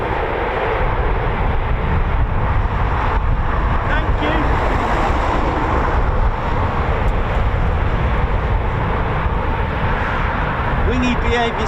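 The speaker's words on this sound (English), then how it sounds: "It's a bit windy out there." Steady, loud wind roaring and buffeting a microphone throughout at RAF Coningsby, a dense rumbling gust noise with a voice faintly present underneath.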